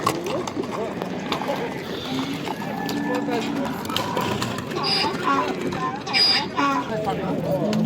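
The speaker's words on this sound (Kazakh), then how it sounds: "Мынакей бул базарда аттарды ушинтип сынашат. Аябай чабып көрүп." Horses' hooves pound rapidly on the ground in a quick galloping rhythm as horses are test-ridden at a horse market in Özgön, Kyrgyzstan, with someone talking over it and crowd noise around.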